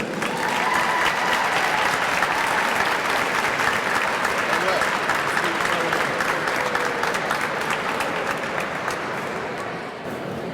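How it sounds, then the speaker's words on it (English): Audience applause at a 2013 Martin Luther King Jr. vigil, a dense steady roar of many hands clapping that holds for the whole stretch and tapers slightly at the end, with no talk over it. "please give her a round of applause"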